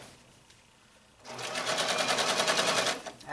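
A sewing machine stitches bias tape around a sleeve cap for an Elizabethan doublet, starting after a quiet second and running as a steady, fast mechanical whir with a close, even rhythm.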